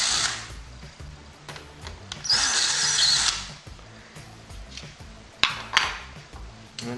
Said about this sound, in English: Next, the screws are removed on the old hinges.